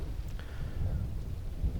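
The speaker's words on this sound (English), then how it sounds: "It's always bloody raining in this game." Rainfall in the EverQuest video game world, a soft steady wash of rain with a low rumbling undertone, brief and unbroken, no voices.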